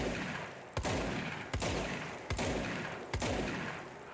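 A service weapon fires in the action game Control, four loud, close gunshots at a steady rhythm, each with a quick booming tail that fades before the next.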